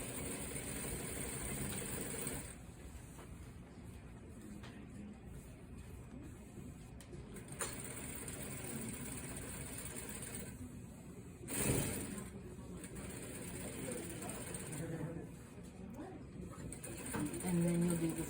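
Sewing machine stitching a seam on a shirt at a one-inch guide, a steady close mechanical whir running almost continuously with brief pauses and a low background hum.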